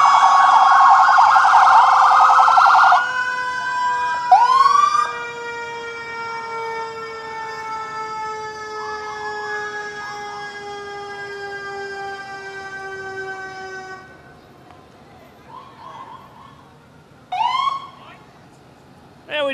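An ambulance siren from the Union Township Life Squad passes in a July 4th parade in West Milton. It gives long steady wailing tones with rising sweeps and short bursts of yelping, loud and close, with some faint crowd sound beneath.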